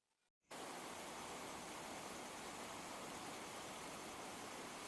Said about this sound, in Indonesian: Gemericik hujan terdengar pelan.